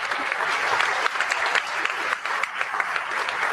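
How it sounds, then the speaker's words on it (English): Audience at a commercial real estate business forum applauds steadily, a dense, loud wash of many hands clapping that continues evenly without a break. "Give Doug a big round of applause."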